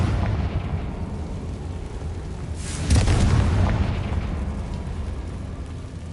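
A Confringo fire spell explodes in Hogwarts Legacy, a single booming blast near the middle that rises out of steady game ambience and rumbles away.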